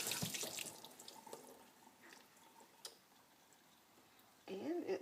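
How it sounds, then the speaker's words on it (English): Cold tap water runs briefly over a felted soap bar, a soft splashing rush that fades into quiet handling noises, with a voice murmuring near the end. "we are going to run it under some cold water"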